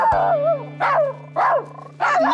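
A dog gives four sharp, close barks in an uneven rhythm, each bark short and tonal, over a low steady hum in the background.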